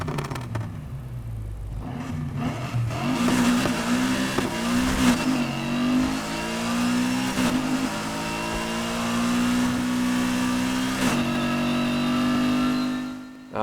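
A BMW M4 with straight cut gears in Need for Speed Heat revs hard and climbs through the gears, the engine note rising and dropping at each shift with a steady mechanical whine, loud and continuous.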